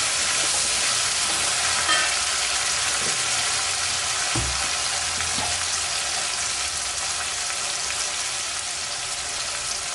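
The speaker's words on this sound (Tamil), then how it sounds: "வெங்காயம் வதங்கிடுச்சு இப்போ தக்காளியை போட்டுக்கலாம்" Onions and tomato frying in a pan for Chettinad sundakkai kuzhambu, a steady bright sizzle throughout with a few soft knocks of stirring, close and continuous without talking.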